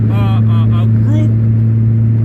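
Group of classic Honda motorcycles riding the Tail of the Dragon road, a steady close engine drone with a few brief revving whines, while someone talks over it.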